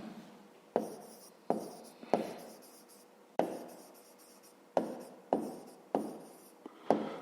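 Numbers for a fifth-grade maths exercise are written by hand, with close, quiet scratching strokes in short bursts separated by brief pauses, and no talking.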